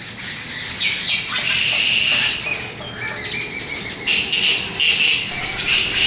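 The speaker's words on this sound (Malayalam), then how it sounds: "പുതിയതായ ഒരു കിളി വന്നാൽ ഇവിടെയുള്ളവരെല്ലാം കരഞ്ഞ് ഒച്ചയുണ്ടാക്കും." Crows and other birds call and cry out together in loud, overlapping bursts of cawing and chirping, close by and continuous, with no talking.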